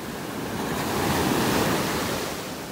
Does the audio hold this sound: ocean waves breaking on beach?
yes